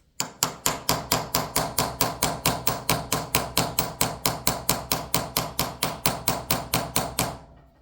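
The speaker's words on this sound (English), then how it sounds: "If you're doing this with a hammer and punch, you want to make sure that that punch is on the male dovetail" A hammer strikes a punch to drive a slip-fit night sight into a pistol slide dovetail: about thirty sharp, evenly spaced metallic blows, loud and close, with no talking.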